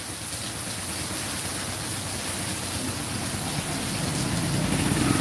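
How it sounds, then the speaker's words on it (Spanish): Sudden rain pours steadily on a town street, a dense, even hiss that holds at a constant level throughout with a low rumble underneath, and no voices. "Qué raro, se vino la lluvia de un solo, dice Jennifer."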